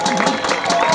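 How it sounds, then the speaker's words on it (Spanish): Dense crowd applause at an outdoor dance festival in Ricaurte, Nariño, a continuous wash of many hands clapping with a steady, loud level and a faint murmur of voices mixed in. "Ahora que está pasando el aplauso"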